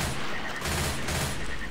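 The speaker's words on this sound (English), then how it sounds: "Explosive ammo." Explosive-ammo gunfire in Left 4 Dead 2 sounds as a dense, continuous fusillade of rapid shots and booms, loud and close, alone with no talk.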